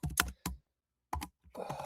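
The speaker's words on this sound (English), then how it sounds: "Now I'm typing my 4-star play." Computer keyboard typing in short bursts of clicking keystrokes, with a pause in the middle, close and fairly quiet, no talking.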